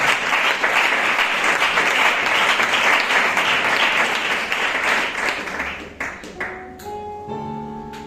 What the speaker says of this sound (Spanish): Dale un aplauso al Señor y recibimos la palabra